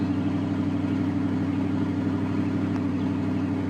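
Modded Ford F-150 truck engine in Farming Simulator 2013 idling with a steady low drone and a faint brief click partway through, continuous and fairly loud with no talk.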